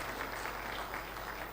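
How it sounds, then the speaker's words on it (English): An audience at a meeting with private education institution proprietors claps for a speaker in a dense, even patter of applause, heard at moderate distance throughout. "Ladies and gentlemen, a round of applause for Mr."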